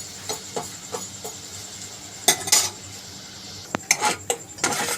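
A spoon stirs and clinks against a pan where sugar heats with a little water to caramelize for Bengali mishti doi. Light scraping taps and a few sharper metallic clinks sound close and alone, with no voice.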